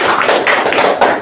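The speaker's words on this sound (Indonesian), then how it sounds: "Ya, tepukan." A classroom of students clapping in quick, dense applause, close and lively, over about a second with no speech.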